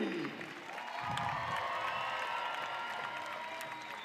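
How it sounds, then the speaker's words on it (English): Crowd applauding and cheering the seniors at a college gymnastics meet, Utah State hosting Alaska and Nebraska; steady sustained clapping fills the arena, with a brief low rumble of voices near the start. "a big applause from the crowd here remaining"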